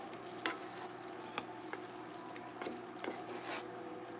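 Onions, peppers and juice are stirred together in a pan, giving a faint steady sizzle with soft scraping clicks from the utensil at irregular intervals.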